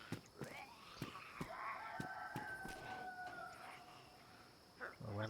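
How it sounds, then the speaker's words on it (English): Chickens in the DayZ video game, a rooster-like crow with clucking calls rising and falling over steady game ambience, with sharp clicks throughout. "There's just fucking chickens everywhere."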